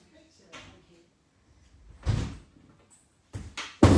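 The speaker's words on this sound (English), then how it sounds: "I'll open the door really quick" A front door is handled in several separate bursts: soft clunks, then louder bumps and knocks, with a final heavy close, in a quiet room with brief gaps between.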